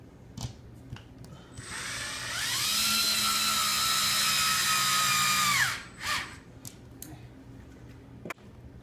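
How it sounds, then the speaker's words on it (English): A power screwdriver whines steadily for about three seconds while Phillips screws are driven into plastic drywall anchors, set among scattered faint clicks and handling noises. "taking our Phillips head screwdriver now and just snugging the screws down until they're tight"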